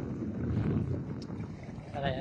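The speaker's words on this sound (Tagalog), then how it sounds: "mahangin na sobra dito guys" Strong wind at a seaside spot in Liloan, Southern Leyte: constant heavy buffeting roar over the microphone, with boat or water noise mixed in and a brief voice near the end.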